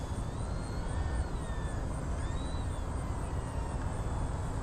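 An FMS PA-18 1300mm STOL ready-to-fly RC plane flies with half flap; its thin electric motor whine rises and falls as it passes, heard at a distance over steady outdoor wind noise.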